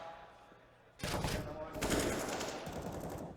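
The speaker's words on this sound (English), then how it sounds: "That's a nice shot from Nifty, and a second as well" Gunfire in a professional Counter-Strike match on the Mirage map, a sudden burst of rapid, loud shots breaking in after a second and rattling on densely, with a commentator talking underneath.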